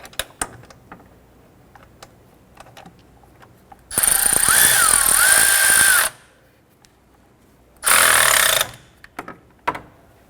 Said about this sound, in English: Use a 13mm socket and go ahead and tighten this down.